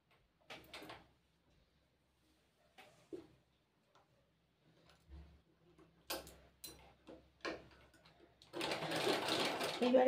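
A sewing machine stitches a seam on a six-panel petticoat, a brief run near the end after faint handling clicks and taps of the fabric, with a voice speaking quietly.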